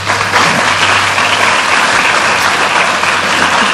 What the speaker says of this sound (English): Please join me in giving a round of applause to Dr. Deanna Trella and Dr. Timothy Hilton.